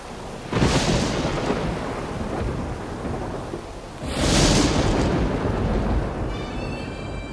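Two loud, rolling thunderclaps boom through steady rain, each swelling and slowly fading, with no voices.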